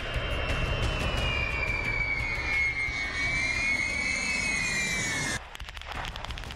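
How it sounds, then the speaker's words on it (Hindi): A nuclear-capable military jet aircraft that can fire missiles roars steadily and loudly with a whining engine tone, then the roar drops off abruptly near the end. "परमाणु बम गिराने और आसमान से ही मिसाइलें दागने की क्षमता रखने वाला यह विमान"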